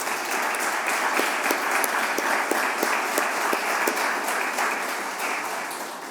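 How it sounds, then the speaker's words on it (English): Sustained audience applause honors panelists at a university innovation symposium, a dense, steady wash of many hands clapping throughout, loud and close, tapering slightly at the end. "How about a round of applause for those panelists?"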